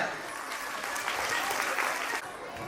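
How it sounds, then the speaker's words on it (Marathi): Applause from the audience at a school annual function, a steady, moderately distant clapping from a crowd that carries on evenly and eases off near the end. "टाळ्या होत राहू द्या"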